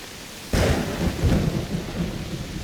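A storm in Assassin's Creed Shadows breaks with a sudden loud thunder crack, then rolling rumbles over steady heavy rain that continues throughout.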